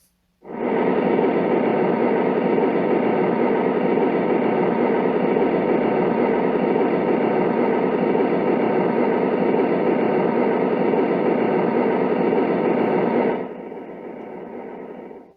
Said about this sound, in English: I'll stop the pink noise because the measurement is done